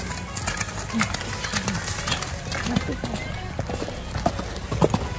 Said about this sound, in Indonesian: santri-santri Darut Tauhid sedang latihan berkuda di sini